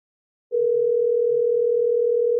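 A steady telephone dial tone from an AI dialer starts abruptly and holds as one unbroken, fairly loud pure hum until the end.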